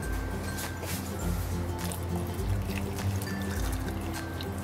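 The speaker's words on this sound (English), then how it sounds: "Just pour the water right above the apples" Water pours steadily over apples being prepared for an apple crumble, a continuous close trickle and splash with no talking.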